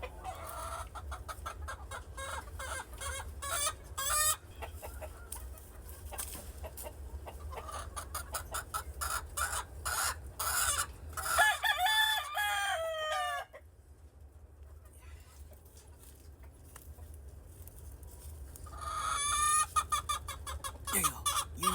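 Gamefowl chickens cluck steadily in a farmyard while a rooster crows loudly and close several times, with a voice talking in between.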